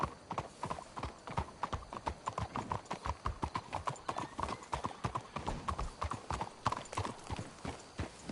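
Horse hooves clip-clopping in Red Dead Redemption 2, a steady, brisk rhythm of close hoofbeats continuing throughout over faint ambient background.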